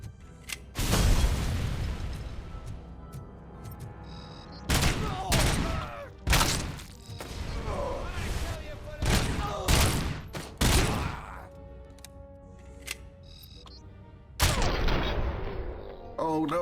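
Video game combat in Robocop: Rogue City, with a grenade blast and repeated bursts of gunfire, loud booming volleys in irregular clusters, plus some faint game voices underneath.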